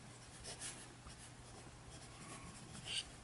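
A Kaweco Dia 2 fountain pen with a steel nib scratches softly across paper, a faint continuous rubbing with small strokes and pauses, heard close and alone.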